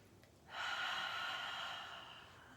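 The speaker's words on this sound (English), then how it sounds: "Take another deep breath here." A single deep, slow inhalation during a seated self-care stretching exercise, close and breathy, rising at about half a second and easing out over two seconds in a quiet room.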